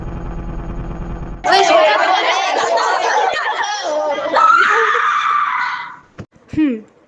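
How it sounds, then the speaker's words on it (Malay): An animated cartoon character lets out a loud, strained scream with shifting pitch that fills several seconds, then cuts off, followed by a couple of short vocal bursts. "Agak-agak kenapa ia dia menjerit?"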